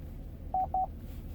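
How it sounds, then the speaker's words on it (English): Two short, identical electronic beeps in quick succession confirm a saved radio favorite in a 2018 Chevrolet Silverado 2500 HD Double Cab Work Truck, clear above a low cabin hum. "push and hold till you hear that double beep"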